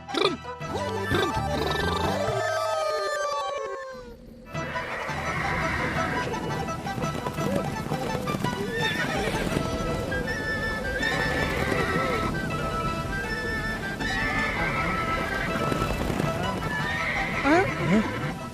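Cartoon horses neigh and whinny repeatedly over rhythmic clip-clopping hooves, with dramatic background music and voices throughout.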